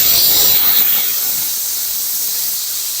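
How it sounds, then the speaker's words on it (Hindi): Steam hisses loudly from a pressure cooker holding desi chicken as its pressure is released, a sharp continuous jet that eases slightly but keeps going. "प्रेशर सारा मैंने निकाल दिया है कुकर का"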